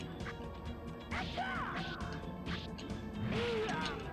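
An enemy explodes in Hokuto no Ken, a PS1 fighting game. Short crashing hits and whooshes from the game come with descending electronic effect tones, all set over a steady bed of game music.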